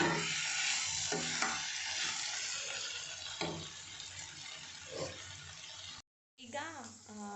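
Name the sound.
stirring capsicum masala fry with salt in a pan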